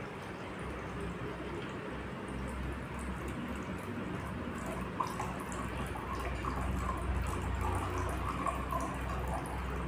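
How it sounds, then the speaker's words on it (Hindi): Water is poured steadily into a container to mix a dishwash liquid slurry, making a continuous close, soft splashing hiss for the whole stretch. "तो सबसे पहले हम 400 ग्राम पानी लेंगे"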